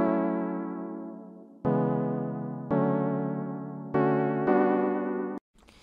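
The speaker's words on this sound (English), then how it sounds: "So the whole melody sounds like this." A slow, mellow lo-fi beat synth melody made in FL Studio, about five sustained chords, each struck and left to fade with a gentle wobble, soft and close with no voices.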